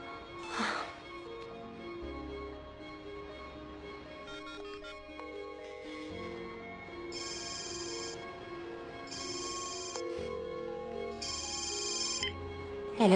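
A mobile phone's melodic ringtone plays repeatedly in bursts, fairly loud and close, with short pauses between rings and no talking over it.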